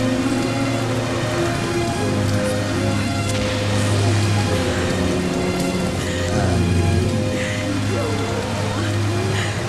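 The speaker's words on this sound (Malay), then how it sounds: "Hujan tak berhenti lagi ni Tok." Heavy rain pours steadily in a dramatic film scene, a dense continuous hiss of drops on surfaces with low rumbling underneath, loud and unbroken throughout.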